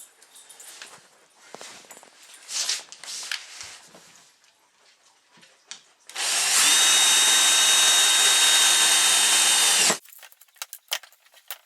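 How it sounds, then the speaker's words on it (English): A power drill bores a hole for a DIY aquaponics system's drain fitting, a loud continuous whine of about four seconds after some handling clatter, then more small knocks. "So I'm going to go ahead and drill this hole here."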